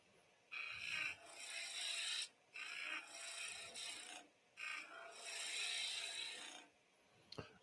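Spindle gouge cutting wood on a spinning lathe, a steady hissing scrape in several sustained passes of one to two seconds each, separated by brief gaps, close and fairly loud.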